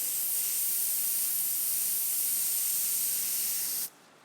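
An airbrush sprays paint onto stretchy skulls in one continuous, even hiss at close range, cutting off abruptly near the end.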